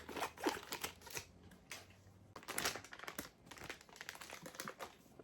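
An airtight plastic gift package crinkles and crackles as it is cut open, with soft irregular rustles and snips up close, fairly quiet and with no voices.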